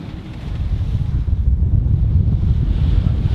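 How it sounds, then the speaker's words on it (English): Strong wind buffets the microphone over a continuous rush of waves and water aboard a yacht motor sailing close-hauled in about 12 knots of wind out of Singapore; a loud, dense, low roar with no voices. "12 knots of true wind, and we had a nice close haul there as we were motor sailing."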